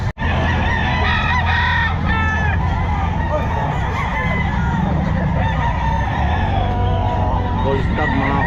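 Stag roosters crowing amid a noisy crowd of fowl at a busy pet market, with loud repeated crows over constant clucking, honking and people talking.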